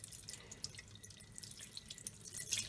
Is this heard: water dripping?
yes